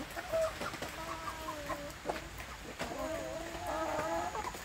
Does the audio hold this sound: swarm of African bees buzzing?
no